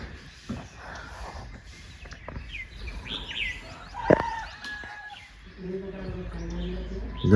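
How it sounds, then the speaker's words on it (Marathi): Village morning with birds chirping and chickens clucking, scattered calls near and far over a quiet background, a sharp knock around the middle and a person's voice mixing in toward the end. "पक्ष्यांचा आवाज कोंबड्यांचा आवाज"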